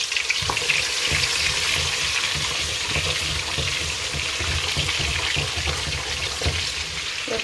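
Onions drop into a pan of frying Nigerian pepper rice, and a steady loud sizzle and hiss carries on with faint stirring scrapes underneath.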